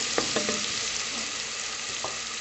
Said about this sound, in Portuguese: Vou colocar a cebola aqui, ó, pra fritar junto.